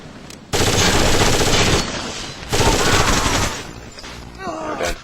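Rapid automatic gunfire rattles in loud sustained bursts during a co-op Terrorist Hunt match set in a convention center, with two long volleys separated by a brief pause and a quieter spatter of shots near the end.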